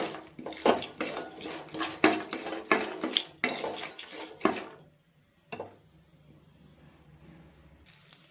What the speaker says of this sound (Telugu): ఇప్పుడు ఇదంతా మంచిగా కలుపుకుందాం.